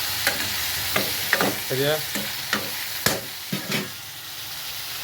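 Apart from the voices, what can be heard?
stirring vegetables with salt in oil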